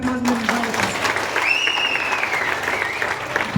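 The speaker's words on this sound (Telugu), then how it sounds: "వీళ్ళకు ఒకసారి గ్రేట్ రౌండ్ ఆఫ్ అప్లాజ్" An indoor business meeting audience gives a big round of applause for a woman being honoured, producing steady, dense clapping throughout with a whistle-like tone rising over it midway.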